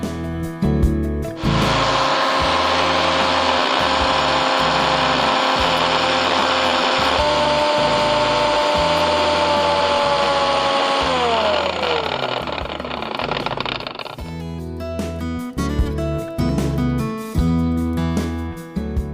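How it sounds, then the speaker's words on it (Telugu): A kitchen mixer grinder blends kiwi and watermelon with black salt and water, starting with a loud whirring roar that holds steady for about twelve seconds, then winds down in pitch before stopping. "ఇప్పుడు మిక్సీ చేసుకుందాం."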